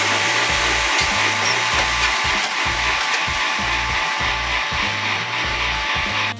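Pool booster pump for a Polaris Quattro Sport cleaner running, a loud steady hiss and whir with a pulsing low-frequency motor throb, close and continuous until it cuts near the end.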